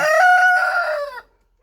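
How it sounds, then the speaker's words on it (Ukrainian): A close, loud call from a white hen with strong harmonic tones lasting about a second, a drawn-out cackle, then silence. "От та кури, бачите?"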